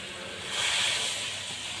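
Water poured into hot mustard masala in a pan for bhola fish curry hisses and sizzles in one steady close burst that swells briefly, then settles.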